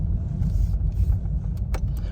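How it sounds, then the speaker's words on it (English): A car on a residential street in New Orleans passes close by, a steady low rumble of engine and tire noise with no talk. "Let this car pass me."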